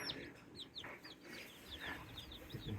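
Baby chicks peep steadily in close, high, rapid chirps, several birds calling over one another without pause.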